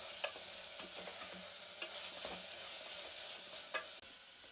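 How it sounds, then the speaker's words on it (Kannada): Carrots, peas, potato and beans frying in a pan with salt, a steady broadband sizzle with a few sharp stirring scrapes and clicks throughout, no talking. "ಚೆನ್ನಾಗಿ ಫ್ರೈ ಮಾಡ್ಕೊಳ್ಳಿ ಉಪ್ಪು ಹಾಕೊಂಡು."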